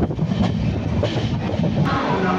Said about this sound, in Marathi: आता ही ट्रेन पुढच्या प्रवासासाठी सुटली आहे